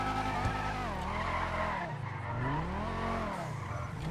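A Comet sports car drifting in a GTA roleplay session, with loud continuous tire squeal and a revving engine whose pitch sweeps up and down throughout.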